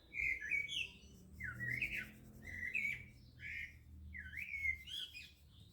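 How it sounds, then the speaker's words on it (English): Birds squawk and chirp in a backyard, repeated sharp call phrases in a steady rhythm, fairly close and clear over a low background rumble. "You might hear all the birds."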